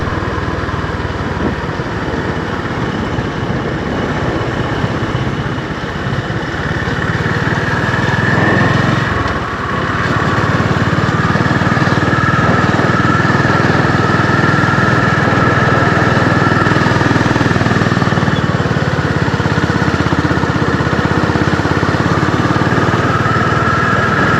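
A Honda GB350 motorcycle engine drones steadily in fourth gear at about 60 km/h, loud and close, with a brief dip partway through and wind rushing underneath.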